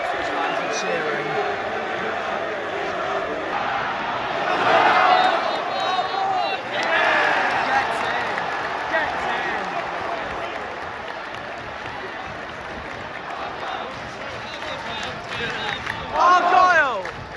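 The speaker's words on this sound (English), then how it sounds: "That's why the Ipswich fans are cheering." Plymouth Argyle and Ipswich supporters in a League One stadium crowd, with a continuous roar of cheering and shouting that swells in bursts, plus a nearby voice calling out over the noise.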